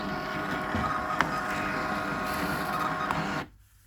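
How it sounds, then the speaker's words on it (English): Label printer steadily whirring and feeding as it prints two food labels, a continuous close mechanical buzz with small clicks that stops abruptly near the end. "So that's just printed 2 labels."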